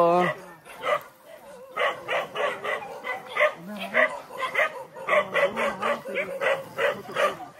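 A dog barks and yips repeatedly at close range while a person talks over and between the barks.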